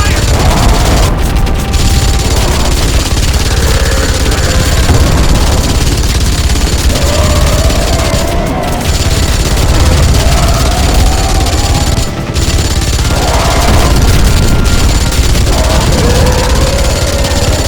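Sustained gunfire and heavy explosions rumble through a battle in Crysis Remastered, a dense loud wall of booms and bursts with radio-style voices shouting over the noise.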